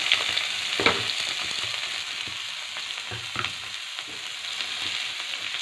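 Leafy greens fry in a pan with garlic, giving a steady soft sizzle throughout, broken by a few louder scraping stirs near the start and again midway, with no voices.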